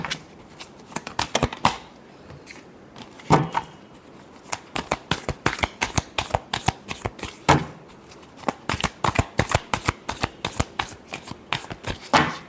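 Tarot cards are shuffled by hand in quick riffling bursts and soft rhythmic slaps, a close, steady run of card flicks continuing throughout.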